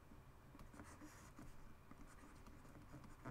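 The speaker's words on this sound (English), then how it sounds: "Let me just write this." Pen or marker scratching across a surface while the quadratic formula is written out for an algebra lesson, a steady run of short scribbling strokes heard alone and fairly quiet.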